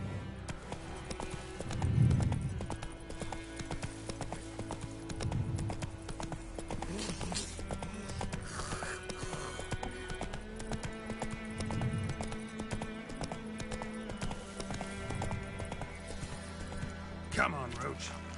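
Horse hooves trotting with a steady clip-clop rhythm in the video game The Witcher 3, heard close under game music and a man's speech, with a brief whinny-like burst.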